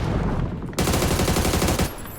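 Loud, dense automatic gunfire from the PUBG battle royale video game during a Thai esports qualifier match, continuous rapid bursts heard up close with no talking.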